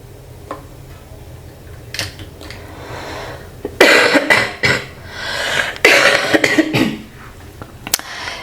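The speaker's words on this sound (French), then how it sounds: "J'ai cette toux." Several harsh coughs burst out in a cluster, loud and close, separated by short quiet gaps and a few faint ticking sounds.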